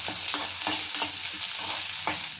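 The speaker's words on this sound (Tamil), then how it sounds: "இந்த சின்ன வெங்காயமும் வெள்ளைப்பூடையும் போடுறேன்" Small shallots and garlic sautéing in hot oil in a pan, a steady close sizzle with a few soft stirring scrapes at regular intervals, no voices.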